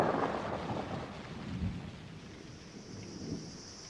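A heavy thunderstorm with steady rain marks the start of the rainy season on a forested river island in Sierra Leone; low thunder rumbles swell and fade beneath a continuous hiss of downpour, with no voices.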